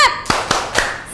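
A school class does the tepuk semangat spirit clap, three sharp, evenly spaced group claps ringing out close and loud after a brief voiced lead-in.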